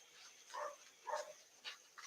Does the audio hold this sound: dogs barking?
yes